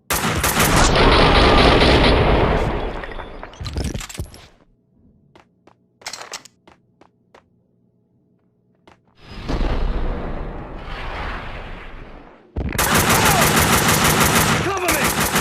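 Loud, dense automatic gunfire from a Max Payne 2 shootout fills the opening seconds, fades to scattered shots and quiet, then returns in sustained bursts near the end.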